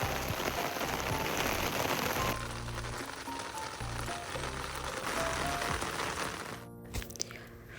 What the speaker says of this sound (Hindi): फिर आप देखिए कितनी ज़्यादा तेज़ बारिश होने लगी